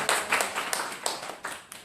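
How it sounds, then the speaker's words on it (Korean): A small audience of teachers at a training session claps in a brief, lively burst, with a few distinct rhythmic clap accents standing out near the microphone. "자, 박수 주세요."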